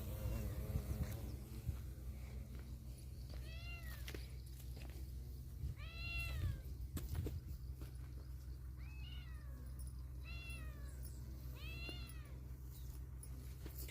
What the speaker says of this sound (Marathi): हा आमचा मिक्की बोका.